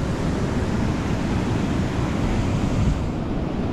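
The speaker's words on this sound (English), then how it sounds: "The waves are pretty good." Ocean waves break along the shore at Folly Beach in Charleston, South Carolina, a loud, continuous surf roar mixed with wind, with no voices.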